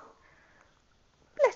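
A single short, sharp sneeze from a five-week-old baby girl bursts out at the end after a near-silent stretch with faint breathing.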